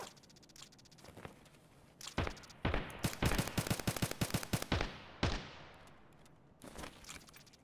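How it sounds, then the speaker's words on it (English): Gunfire in the video game Escape From Tarkov: a rapid string of sharp shots, bunched into bursts near the middle, then a few scattered later cracks, fairly close and loud over quiet ambience. "They're shooting underneath me right now."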